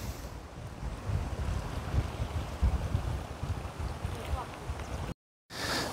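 Wind and waves roll onto a Baltic Sea shore as a steady broadband roar with gusty wind buffeting the microphone, cut by a brief gap near the end.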